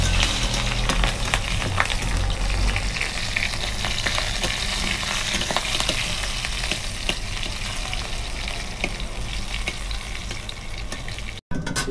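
Green chillies and bay leaves fry in hot oil with panch phoron, giving a steady, loud, close sizzle with crackling pops and occasional stirring, running continuously with a brief dropout near the end.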